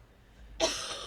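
A sudden harsh burst of coughing breaks in after a stretch of near quiet and carries on loud and rough to the end, with no one speaking over it.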